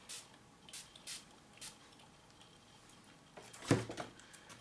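Ink dye sprayed onto a craft wreath from a spray bottle, several short hissing bursts spaced apart, close and fairly quiet, with a louder clustered spray and a small knock near the end.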